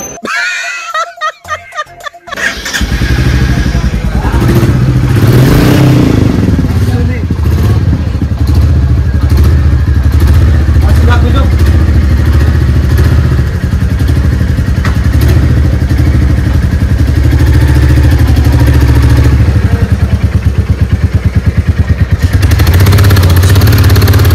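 A new Royal Enfield motorcycle's engine runs steadily up close, a low, throbbing rumble that holds for the whole stretch after a brief clatter of knocks at the start.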